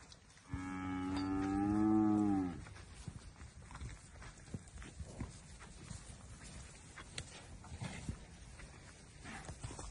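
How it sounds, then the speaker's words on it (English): A weaned calf on a quarter horse and cattle ranch lets out one loud, drawn-out moo close by, followed by quieter shuffling and hoof and footstep noises for the rest of the clip. "some weaned calves"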